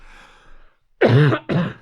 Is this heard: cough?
yes